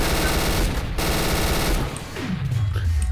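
Rapid automatic gunfire in the multiplayer shooter Trouble in Terrorist Town, a loud continuous burst that cuts off briefly and then resumes, with no talking.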